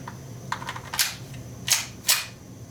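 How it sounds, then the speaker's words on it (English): A Retay blank-firing prop pistol goes off in a few sharp, bright cracks, close and fairly loud, separated by short mechanical clicks with no talking. "Now that I've made the firearm safe, fire up the prop."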